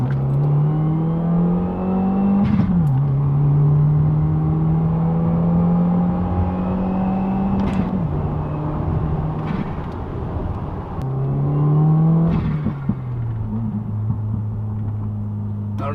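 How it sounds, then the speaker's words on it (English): Subaru WRX STI with a cat-back exhaust revving in first gear at about 20 mph, a loud, close engine drone rising and falling through several rev swells, with a few sharp exhaust pops as the throttle lifts. "I don't know if you guys can hear the pops or not, but we just got a couple of good ones"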